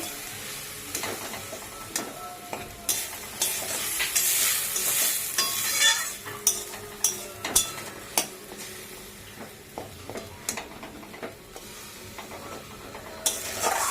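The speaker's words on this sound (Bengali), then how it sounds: "মশলাটা একটু ভাজা ভাজা করে নেবো" Spices with turmeric fry in a pan for a pabda fish curry, a continuous sizzle broken by repeated scraping clatters of a spoon stirring, with no talking.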